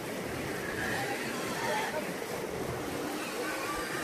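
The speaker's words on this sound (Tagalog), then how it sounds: "Malakas ang tubig." Strong, deep floodwater rushes and churns steadily up close, a continuous roaring wash with people talking over it.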